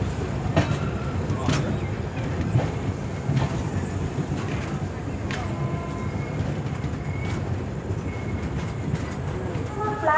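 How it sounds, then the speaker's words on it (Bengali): A passenger train rolls into platform 7 at Puri station, with wheels rattling, clunks and brief squeals over a continuous low rumble, heard close up from onboard with no voices. "পুরী এখন আমরা 7 নম্বর প্ল্যাটফর্মে প্রবেশ করছি।"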